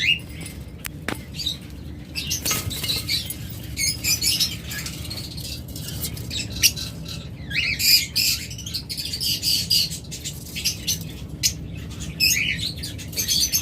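Caged lovebird pairs offered for sale chirp and squawk in a steady busy chatter, with occasional wing flaps and rustling close by, no talk.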